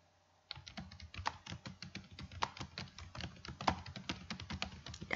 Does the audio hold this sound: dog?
no